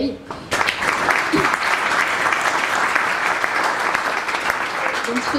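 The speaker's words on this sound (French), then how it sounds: "on peut l'applaudir" An audience at a franchise business event bursts into sustained applause after a brief pause, a dense, even wash of clapping that carries through to the end.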